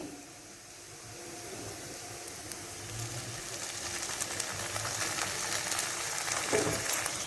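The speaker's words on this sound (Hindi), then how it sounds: "चिकन हमारा अच्छे से फ्राई हो चुका है 2 से 3 मिनट में।" Chicken fries with browned onions in a pan, giving a steady, broad sizzle that grows slightly louder, with a few faint stirring clinks and no talk.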